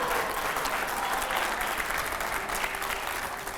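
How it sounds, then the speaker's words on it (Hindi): Loud, dense applause from a studio audience at a televised political interview, a steady wash of clapping hands that fills the whole stretch without pause and fades only slightly near the end. "जोरदार तालियों यहां पर, दिखाइए जरा।"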